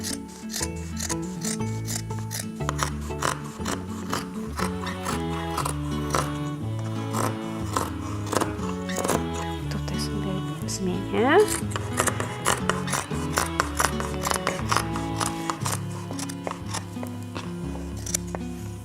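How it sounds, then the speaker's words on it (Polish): Large scissors snip through a double layer of towel fabric in a rapid series of short crisp cuts, close up, over a tonal background. "No dobra, wycinam podwójny ręcznik"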